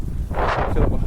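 A big gust of wind hits during a wing foiling session on Pittwater. Broadband rushing roars over the microphone, swelling in the middle and again near the end, close and fairly loud.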